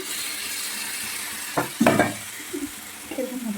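Meat is stirred and fried with spices in a pan over a low steady sizzle, with a few louder scraping stir strokes of the spoon against the pot in the middle and toward the end.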